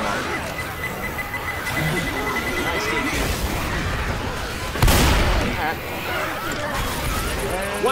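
A pipe bomb detonates in Left 4 Dead 2 in the Parish, a sudden loud blast midway through busy game noise and character voices.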